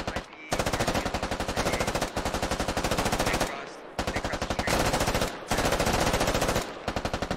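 Sustained automatic machine gun fire in the military shooter game Squad, loud and close, in long rapid bursts separated by brief pauses, with no talking.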